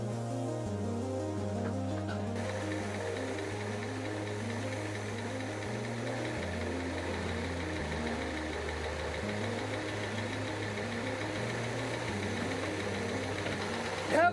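A boat's 454 engine runs at a steady idle close by, with an even, slightly uneven-firing drone and faint knocking that goes on without a break throughout.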